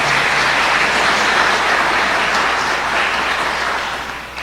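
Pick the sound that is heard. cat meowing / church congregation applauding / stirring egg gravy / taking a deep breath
church congregation applauding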